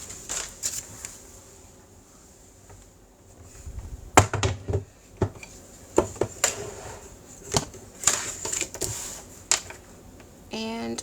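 Cardstock cut on a paper cutting board, giving sharp clicks and slicing strokes in uneven bursts, close and fairly loud after a quieter start.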